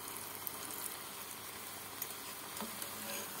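Eggplant slices deep frying in hot oil give a steady, dense sizzle with fine crackling pops throughout, close and continuous with no voices.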